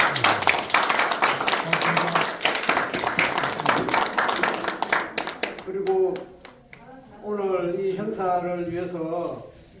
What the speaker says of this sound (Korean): 이태성 이사장님의 큰 박수 한번 다시 한번 보내주세요